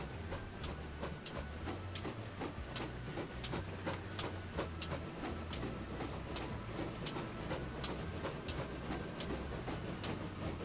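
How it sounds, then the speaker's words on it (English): In the train game Transport Fever, an 1800-horsepower locomotive rumbles along with steady low engine drone and regular clicking rail beats, faint and continuous with no talk. "hopefully that 1800 horsepower locomotive is gonna do the job"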